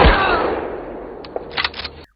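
A single sharp gunshot cracks out loudly and rings off, followed by a few smaller clattering sounds.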